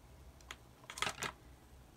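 A few quick mouse clicks on a Windows PC, faint and close against a low hum, in a small cluster.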